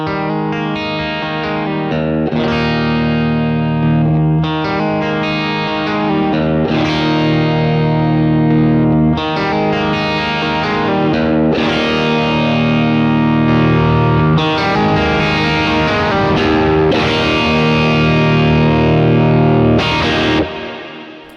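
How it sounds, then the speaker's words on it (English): Electric guitar runs through a dirty second-stage overdrive pedal on a Strymon Iridium worship pedalboard, giving loud, sustained distorted chords and swells with a wash of effects that play continuously with no talking. "I like to have kind of a second stage overdrive that's just a little bit more dirty"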